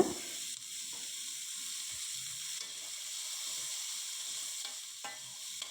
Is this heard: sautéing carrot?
yes